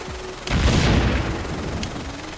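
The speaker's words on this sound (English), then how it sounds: "Will that all just explode when I do the detonator?" Detonated C4 explosives in the game Stormworks set off one loud, close boom that rolls on as a long, wide rumble for about two seconds, with a faint click near the end.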